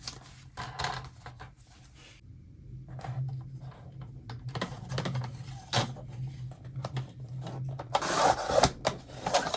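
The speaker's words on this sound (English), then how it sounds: "So I'm going to cut this down." Paper being cut down to size for a belly band on a packed vintage bingo card folio, with a string of short crisp snips and rustles of varying loudness against a low background hum, growing busier toward the end.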